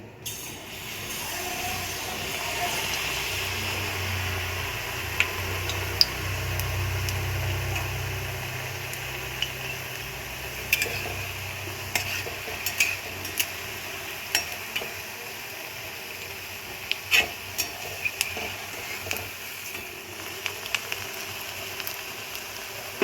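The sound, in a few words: malpua batter frying in hot oil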